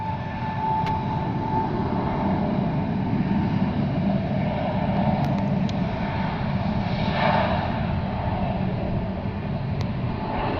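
A Frontier Airlines jet departing from the airport runway, a broad steady engine roar that holds at moderate loudness without talk over it.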